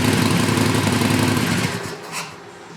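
A Harley motorcycle engine running with its heat shields off, a loud close steady rumble and rattle that fades toward the end.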